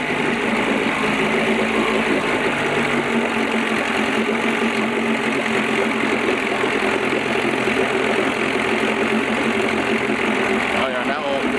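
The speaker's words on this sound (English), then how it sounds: "Oh yeah, now it's idling." A Mercury 9.8 outboard motor idles steadily with an even, close, loud mechanical chatter that stays constant throughout.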